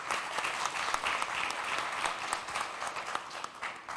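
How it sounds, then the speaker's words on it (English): A conference audience at an education festival panel gives a big round of applause to the panelists, dense, lively clapping that holds steady and loud for several seconds. "we'll give a huge round of applause to my panelists here"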